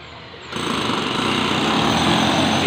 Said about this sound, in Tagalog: Ingay kasi sa loob. May nag-builder.